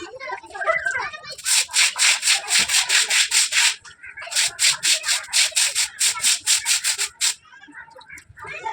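Clothes scrubbed by hand make loud, rhythmic rubbing strokes in quick bursts, with a short pause midway before the brisk back-and-forth resumes.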